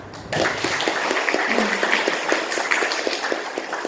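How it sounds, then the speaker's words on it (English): An audience at a symposium breaks into sustained applause, dense clapping starting abruptly and continuing steadily throughout. "So let us give a clap yet to Paolo."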